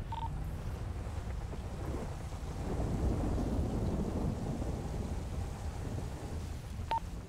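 Rain and a low rumble of thunder in a video game roleplay, a steady wash of noise that swells in the middle and fades again, with no voices.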